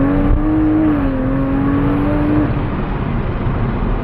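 A 2020 Toyota Supra fitted with a bigger turbo accelerating hard in third gear with its wheels spinning, a loud, close engine drone rising in pitch before dropping back, steady roar throughout with no talking.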